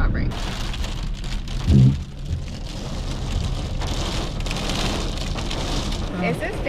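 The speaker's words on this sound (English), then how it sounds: "I've never seen so much non-stop rain." Heavy, non-stop rain falls on Vancouver Island's Strathcona backcountry as a dense, steady hiss of drops on surfaces, with one brief low thump early on.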